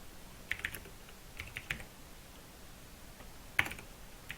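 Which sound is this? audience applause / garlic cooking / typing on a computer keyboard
typing on a computer keyboard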